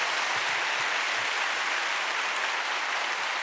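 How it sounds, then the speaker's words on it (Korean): A church congregation at an early-morning service claps together in a dense, even wash of applause that holds at a constant level throughout. "give a glorious round of applause to the Lord."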